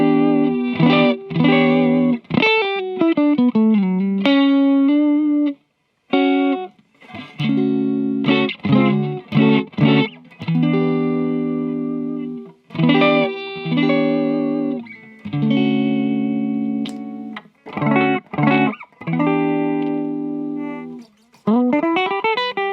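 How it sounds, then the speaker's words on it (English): An electric guitar plays through the JC clean channel of a Harley Benton HB-15GXD JamBox, modeled on a Roland Jazz Chorus. It rings out loud, shimmering chords and short melodic runs with brief pauses, and no one talks. "This is the JC clean, which I assume is Jazz Chorus, Roland Jazz Chorus"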